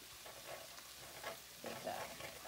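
A spoon stirs annatto coloring powder into goat paklay in a sizzling pot, producing soft scraping swirls over a constant low hiss, quiet and close.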